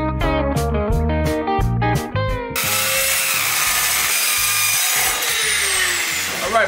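A power saw trimming the bottom edge of a plexiglass panel for a Honda Civic fastback build, a loud tonal whine in short bursts giving way to a sustained harsh cutting roar, close up.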